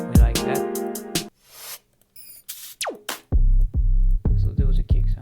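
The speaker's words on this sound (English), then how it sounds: "So there was a kick sound." Punchy drum and bass kick drum, deep thumping hits repeating in a steady pattern near the end, preceded by brighter synth stabs and sweeping effects, loud and with no talking.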